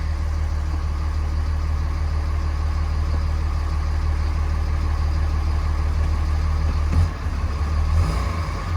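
A Cummins diesel engine in a single cab truck idles steadily in neutral while warming up, a loud continuous low rumble with a brief dip around the seventh second and no voices.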